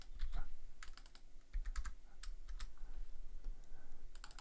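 Keys clack on a computer keyboard in quick irregular bursts, close and fairly faint, with a low steady hum underneath.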